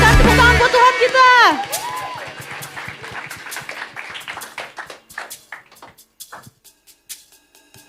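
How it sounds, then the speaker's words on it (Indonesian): A church congregation at a youth worship service claps for God as the sung worship fades, leaving scattered, uneven handclaps at moderate volume that thin out toward the end. "Berikan tepuk tangan buat Tuhan kita."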